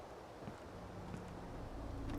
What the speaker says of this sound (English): Bit windy though.